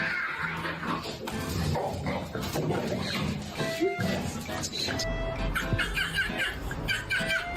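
A small dog whimpers and yelps amid a noisy live-stream scene near a cat fight, with dense talk and laughter running over the brief cries throughout.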